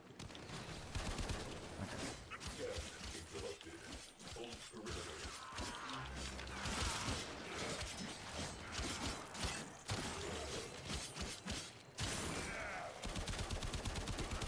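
Gunfire in the video game Warframe rattles in rapid bursts and fusillades with mechanical clanks and shattering effects, dense and continuous at moderate level.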